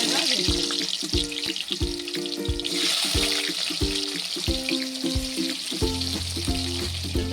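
Potatoes coated in salt and turmeric fry in hot oil in a wok, giving a continuous bright sizzle heard close up beneath rhythmic tonal music playing in the background.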